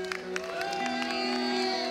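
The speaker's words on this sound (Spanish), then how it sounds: "Un aplauso ahí para todo el equipo" A concert crowd at an outdoor Barcelona Harley Days 2015 show applauds and cheers, a steady wash of clapping and whoops with tonal music sustained underneath.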